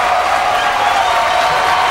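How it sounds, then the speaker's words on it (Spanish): A live show crowd applauds Manuel Valverde, with steady, loud, sustained clapping and cheering that fills the space without a break. "Démosle un fuertísimo aplauso a Manuel, que se merece eso y más"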